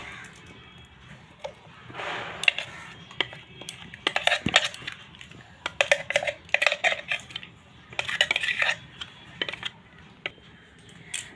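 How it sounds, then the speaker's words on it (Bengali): Fine-ground lentil paste for dalpuri is scraped and poured into a bowl: a run of light clinks, taps and wet scraping of a utensil against the bowl, close by and irregular, with no talking. "এবার আমি এটা একটা বাটিতে ঢেলে নেব।"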